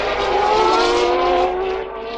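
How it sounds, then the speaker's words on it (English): A 1990 Formula 1 car at the French Grand Prix at Paul Ricard roars past with a rough, uneven engine note, loud and close, its harmonics sliding slightly as it passes and fades. "And the car goes past here, sounding very rough indeed."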